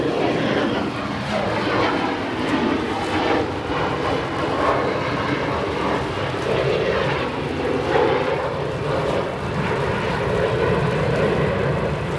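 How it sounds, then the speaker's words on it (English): Frontier Airbus A320neo in Joaquin the Kit Fox livery arriving at O'Hare from Atlanta, its jet engines a loud, steady roar that holds throughout, broad and rumbling. "Frontier, this aircraft, flight 1828, Joaquin the Kit Fox livery, an Airbus A320neo, arriving in from Atlanta"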